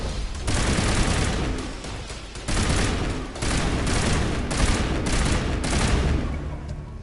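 Sustained gunfire in the Mass Effect video game as Alliance Marines battle ExoGeni mercenaries, loud dense bursts of rapid shots with brief gaps, a continuous firefight with no talk over it.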